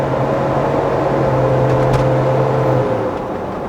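Land Rover Defender 90 with an upgraded stage 3 cylinder head driving along, a loud, steady engine drone and road rumble heard from inside the cabin, with no talk.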